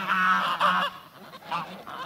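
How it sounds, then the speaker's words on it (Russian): Geese honk in a village yard, nearby and loud, with a gander calling in repeated nasal honks that come in bursts and overlap. "Вот идет гусак."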